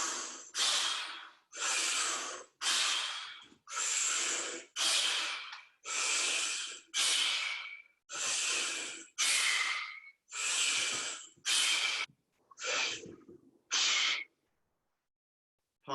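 Seven paced breathing-exercise breaths with palms down, each a long, loud airy rush through the nose and mouth separated by short pauses, steady and close, with no talking.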